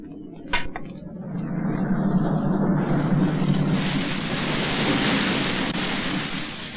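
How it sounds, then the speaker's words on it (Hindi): Heavy rain pours steadily in a storm, a broad continuous hiss that swells after a sharp crack at the start and holds loud to the end, with no voices over it. "बारिश होने वाली है।"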